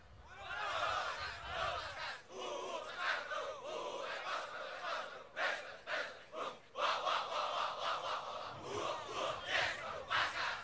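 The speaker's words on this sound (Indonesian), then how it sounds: "Coba kita kasih salam komando dulu." A studio crowd at a Ramadan television program shouts a rhythmic military-style commando salute in unison, with repeated loud bursts and pauses over about ten seconds, sounding somewhat distant.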